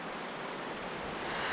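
A steady, broadband rush of flowing water, like a river murmuring continuously nearby with no breaks.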